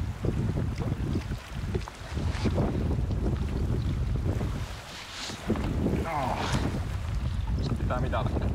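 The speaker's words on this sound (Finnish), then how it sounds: "Tuuli aiheuttaa pieniä haasteita tässä." Strong wind gusts across an open fell in Finnish Lapland, buffeting the microphone in heavy rumbling bursts with a brief lull midway, while faint voices come through underneath.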